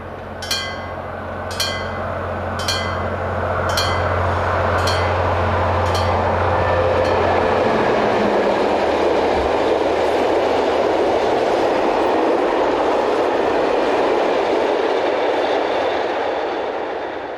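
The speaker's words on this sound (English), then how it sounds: "Staying in front of a freight train is more difficult than you think" A freight train rolls past loudly, with rhythmic clacking of wheels over rail joints at first, then a long steady roar of passing wagons.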